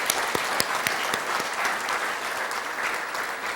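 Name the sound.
applause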